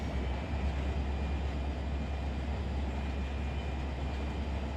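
Santa Fe BNSF SD45 diesel locomotive in the Run 8 train simulator, a steady low engine drone and broad rumble holding constant throughout with no talking.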